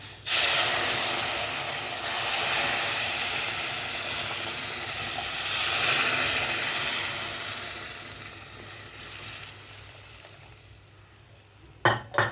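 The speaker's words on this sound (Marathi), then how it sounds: "गरम पाणी टाकताना त्याला आपण कमी करायचं आहे, नाही तर ते तडतडतं" Loud, steamy hiss as hot water is poured into a hot pan while making upma, surging and then slowly fading, with a brief clatter of metal at the end.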